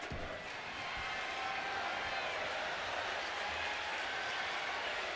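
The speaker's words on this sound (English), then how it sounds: "this crowd is all over it right now" A steady, wide wash of crowd noise and cheering comes from the arena of the wrestling video game WWE 2K25. It holds at a constant level throughout.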